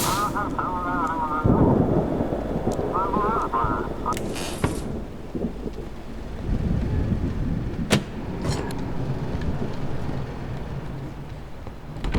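A thunderstorm with rain in the video game Static Dread: steady rain hiss with heavy rumbles and cracks of thunder, heard alongside a game voice and other game sounds.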